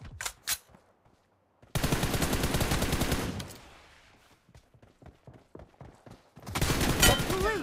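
Rapid automatic gunfire in an online team shooter video game, with two loud sustained bursts separated by a quieter stretch of scattered shots and footsteps.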